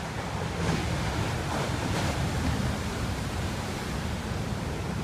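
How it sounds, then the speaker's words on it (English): Arabian Sea waves wash steadily onto the shore at a resort, a continuous broad roar with soft surges and some wind buffeting, no voices. "All night long, I can hear the waves of the sea."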